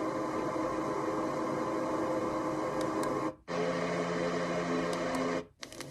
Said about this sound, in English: This here is like a fan.